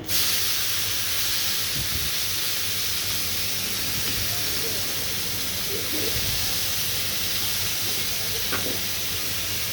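Bitter gourd slices dropped into hot oil left from frying prawns, giving a loud, continuous hissing sizzle with a few faint clinks.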